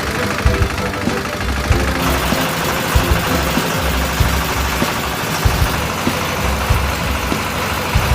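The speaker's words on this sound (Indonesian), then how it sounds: "Pencampuran bahan ransum pakan dapat dilakukan dengan menggunakan mesin mixer" A machine mixer blends a cattle feed ration for fattening beef cattle at a research station, giving a steady, loud mechanical drone with rhythmic clanks throughout and no talk.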